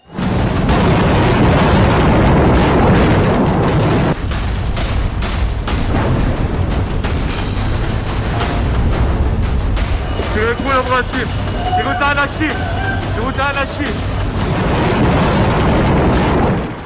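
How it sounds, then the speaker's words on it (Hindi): Ballistic missile strikes on Israel in the Iran-Israel war: a dense, continuous roar of booms and blasts fills the scene, with distorted voices and sirens-like tones faintly audible underneath partway through. "ईरान ने इजराइल के अस्पताल पर बैलिस्टिक मिसाइल दाग दी।"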